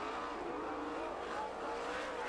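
Several sprint cars race in close battle on a dirt track, engines roaring in a dense, steady, distant drone with no clear pass-by peaks.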